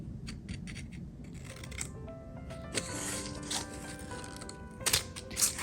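Scissors snipping fabric pieces for a tote bag, a run of short crisp cuts with light rustling of cloth and a few louder snips near the end, close and quiet.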